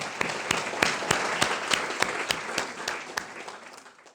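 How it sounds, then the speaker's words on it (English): An audience gives a sustained round of applause in a lecture hall after a guest is thanked, a dense wash of clapping with some sharper individual claps standing out over about four seconds. "Could we just give her a round of applause?"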